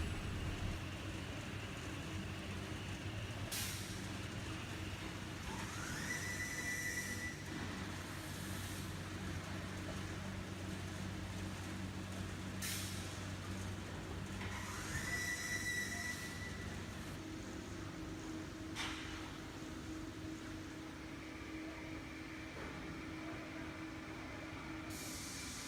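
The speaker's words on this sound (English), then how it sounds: "After cutting, the MgSo4 board will be transported into the cage vehicle automatically." An automated MgSO4 board production line runs a conveyor that moves cut panels into cage vehicles, a steady low mechanical hum with periodic squealing whines and metallic clanks repeating every few seconds, faint and distant.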